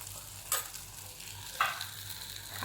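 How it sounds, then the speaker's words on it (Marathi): Turmeric, asafoetida and spices sizzling in hot oil for misal pav, a soft steady sizzle with two brief sharper crackles or spoon scrapes, quiet and close. "चांगला परतून घेते भाजून घेते आता मी हळद हिंग टाकून घेते"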